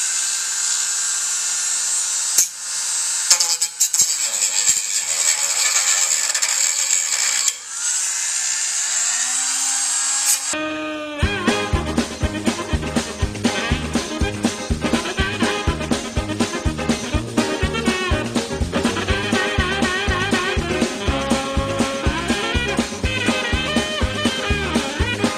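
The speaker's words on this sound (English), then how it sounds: "Now if you're going to use a Dremel, plastic is going to fly everywhere" A Dremel rotary tool cuts plastic off a Game Genie cartridge: a loud high-pitched whine with abrupt starts and stops, then a rapid chattering, pulsing grind as the bit bites into the plastic, with no voices.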